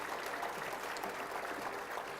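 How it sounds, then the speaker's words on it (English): Audience applause at a city State of the City address honoring a sponsor, a steady wash of many hands clapping at moderate distance, sustained and even throughout without pauses. "Big round of applause for PUB."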